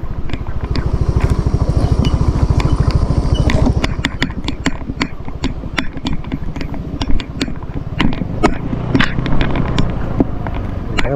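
A motorcycle engine on a steep mountain descent chugs loud and close, a steady throb at first, then rougher and lower with scattered clicks and rattles.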